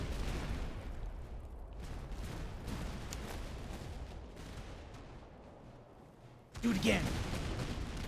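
Musket fire loaded with buckshot in the strategy game Master of Command, a rumbling roll of distant volleys and then a sharper burst near the end, heard under a person speaking.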